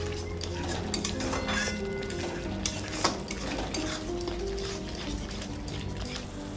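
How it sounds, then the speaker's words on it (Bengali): Spice masala of ginger paste and red chilli powder fries and is stirred in a pan for a Bengali katla fish malai curry. A busy, close sizzle runs under repeated scraping and the clink of a metal spoon against the pot. "এরপর মশলাটাকে একটু কষিয়ে নেব"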